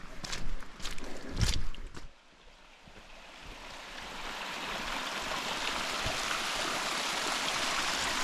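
A mountain spring on Mt. Timpanogos, Utah, rushes and splashes in a steady broadband wash that swells gradually, after a few thumping, windy bumps at the start.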